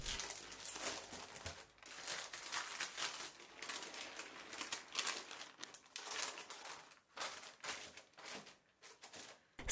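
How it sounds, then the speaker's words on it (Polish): Baking paper is peeled off a cooled sponge cake and tucked back into a baking tin, giving a continuous close crinkling and rustling with repeated bursts of crumpling and brief pauses throughout. "Ściągamy papier do pieczenia i papier wkładamy z powrotem do blaszki."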